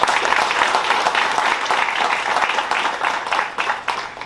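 Sustained applause from the audience at a Chicago public-private partnership press conference on community violence intervention, a dense crowd clapping steadily with a few louder bursts near the end.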